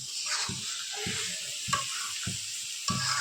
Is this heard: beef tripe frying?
yes